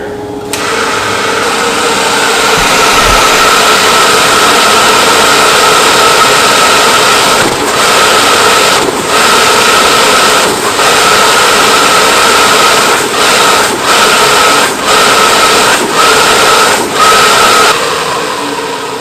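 A Felder RL160 dust collector runs steadily with its gate valve open, a loud, continuous broadband whoosh with faint rhythmic clicks or bumps toward the end before it winds down.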